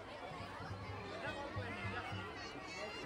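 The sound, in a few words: crowd chatter in a busy park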